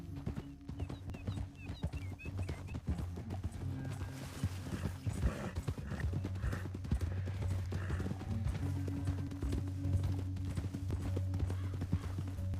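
Horse hooves in the video game Red Dead Redemption 2 clip-clop in a steady, even rhythm throughout, close and moderately loud over a low droning backdrop.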